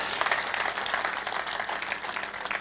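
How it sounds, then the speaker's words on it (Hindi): Audience applause at a Hindi comic poetry gathering once a poem ends, a dense, even wash of clapping from a crowd, moderately loud and sustained throughout. "तालियां बजाइए"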